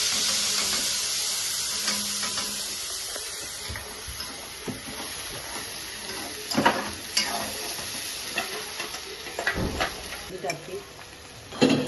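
Curry leaves and a piece of ginger frying in oil for green chicken. A hissing sizzle fades gradually, then a few sharp spoon knocks and scrapes follow near the end.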